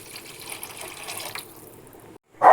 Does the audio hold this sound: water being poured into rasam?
yes